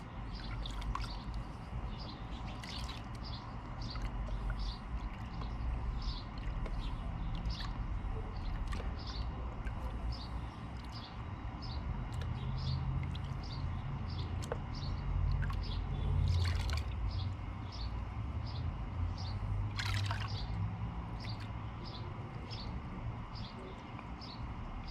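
Gold pay dirt swirled in a pan of water with a one-handed panning technique: a steady close trickle and slosh runs throughout, with a faint, regular ticking or chirping in the background.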